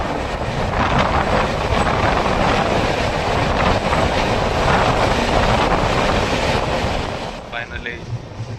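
The Kondaveedu Express rumbles into Yelahanka railway station, a loud, steady roar of wheels and wind heard from on board that eases slightly near the end.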